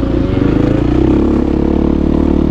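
Enduro motorcycle engine revs loudly and steadily up close, a dense buzzing drone that holds strong throughout, with no voices.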